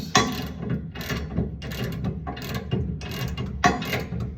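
Ratcheting and metallic mechanism clicks from tightening a trailer hitch receiver bolt on a 2013 Ford F-150 XL, in repeated short bursts with brief pauses, close and fairly loud.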